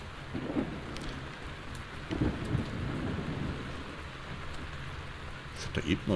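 Rain and thunder in the horror video game Those Who Remain: a steady, soft patter of rainfall with low rumbles of thunder rolling underneath, fairly quiet throughout.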